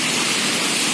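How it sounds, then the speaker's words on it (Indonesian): Steady rain pouring down outdoors, a dense, even hiss with no break, loud and close. "kondisinya di sini lagi hujan, jadi kita nunggu agar reda"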